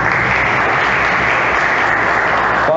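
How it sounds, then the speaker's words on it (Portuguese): A Catholic congregation applauds during a sermon, a steady, dense wash of many hands clapping at once that holds loud and even for the whole stretch with no speech over it. "Aplauda a palavra de Deus."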